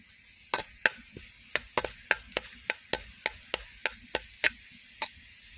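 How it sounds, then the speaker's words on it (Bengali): Cumin seeds and onion fry in hot oil, a soft background hiss broken by a quick series of sharp, evenly spaced clicks and pops, about fifteen in a few seconds. "এই গরম তেলে আমি জিরেটা ভেজে নিচ্ছি পেঁয়াজের সাথে"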